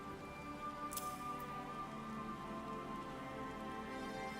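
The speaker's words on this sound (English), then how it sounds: "Yeah, the rain sound effects are nice." Steady rain falling in the game Final Fantasy XIV, a dense, even patter with no voices, holding at a constant level throughout.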